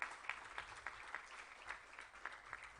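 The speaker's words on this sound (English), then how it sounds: "please give a round applause to yourself that you have been gifted this" College students at an induction day give a round of applause, a faint, distant patter of scattered claps with irregular sharper hits, quiet and thin throughout.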